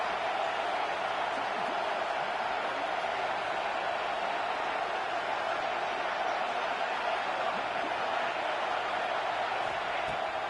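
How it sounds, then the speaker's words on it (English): An American football stadium crowd roars on a 4th-down defensive stand, a steady, dense wall of distant cheering and noise that holds level throughout without breaks. "this crowd trying to help this defense rise to the occasion"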